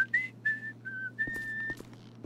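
Someone whistles a short tune while playing a janitor in GTA 5, several bright tonal phrases, close and clear over a faint low hum.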